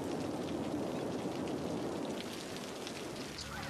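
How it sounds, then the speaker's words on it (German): Rainfall in the city-building game Cities: Skylines is a continuous, even hiss of drops on surfaces that holds steady throughout at moderate volume, with no voices over it. "Es regnet."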